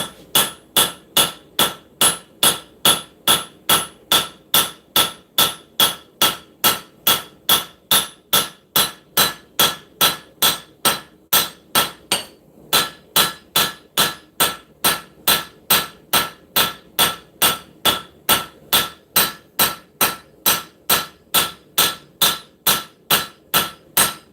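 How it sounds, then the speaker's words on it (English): Hammer blows forging bevels into hot steel in a shop, a fast, even stream of sharp ringing strikes, dozens in a row with one brief pause midway, loud and close with no talk. "start forging in these bevels"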